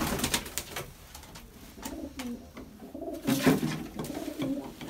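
Cooing of Mardin pigeons, a gifted breed handled at close range, with repeated low throaty coos rising and falling over about five seconds amid soft handling rustle.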